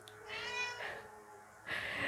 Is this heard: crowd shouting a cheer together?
no